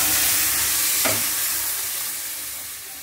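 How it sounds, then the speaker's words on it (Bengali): Cooked dal poured into hot tempering in a pan gives a loud, steady frying sizzle with a brief splashing pour near the start, and the hiss slowly eases as the mixture settles. "দিয়ে দিলাম এর মধ্যে ডালটা, সাঁতলানো হয়ে গিয়েছে"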